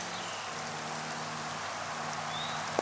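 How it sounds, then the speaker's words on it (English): Rain falling in woods during a winter storm, a steady soft hiss of drops with no pauses, fairly faint and even throughout. "It's starting to rain again."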